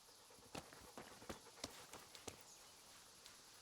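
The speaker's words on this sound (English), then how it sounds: "Oh, there's a horse." Horse hooves clip-clop in uneven single knocks in Kingdom Come: Deliverance, a medieval video game, faint and somewhat distant, with no other sounds.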